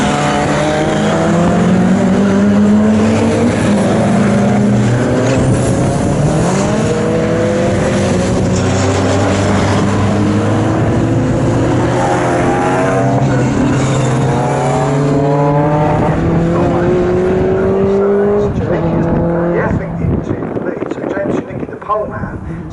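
Thunder Saloons race cars lapping Snetterton circuit in a 15-minute race, several engines roaring loudly and close with rising and falling pitch as they accelerate and shift, a commentator talking over the continuous engine noise.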